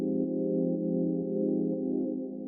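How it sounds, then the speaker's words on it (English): A soft, mellow analog synthesizer pad holds warm sustained chords that shift gently, smooth and steady with no percussion. "this pad, which I made with analog, and it sounds like this"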